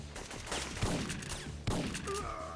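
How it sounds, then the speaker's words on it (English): Shotgun blasts in the video game Syphon Filter, two heavy booming shots about a second apart over a dense background of in-game noise. "The shotgun sounds very beefy."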